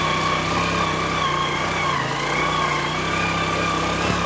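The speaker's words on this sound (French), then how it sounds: "Et vous entendez vous-même le son de la moto." Motorcycle engine running steadily throughout while riding on a mountain road above the Congo River, a continuous droning hum with a constant pitch and no pauses or talk.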